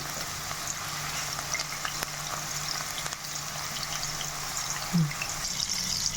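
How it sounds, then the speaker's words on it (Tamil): Prawns frying in hot oil for a pickle make a steady, broad hiss throughout, with a faint low hum underneath and a brief bump near the end, with no talking. "இறா எண்ணெயில் சேர்த்ததுக்கப்புறம் உடனே திருப்பி போட்டுறாதீங்க"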